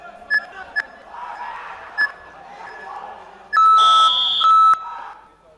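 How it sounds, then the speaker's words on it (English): Match timer at a youth martial arts championship (AMMA) sounds three short beeps and then a loud sustained buzz about a second long, over a steady murmur of crowd and voices in the venue. "Now here in full guard, we hear the timer in the background."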